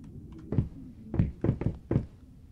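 Knocking on a door in the video game Layers of Fear, a hollow wooden thud followed after a pause by four more heavy knocks in an uneven rhythm, close and fairly loud.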